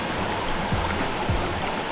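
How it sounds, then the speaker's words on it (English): Water from a stream running through the Tunisian desert flows steadily with close trickling and splashing, a continuous wash with a few louder gurgles, no voices. "We're literally walking down like a river in the desert."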